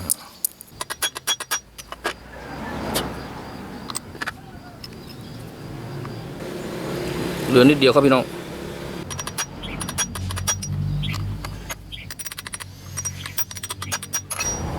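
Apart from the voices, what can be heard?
hammering gear onto angle grinder shaft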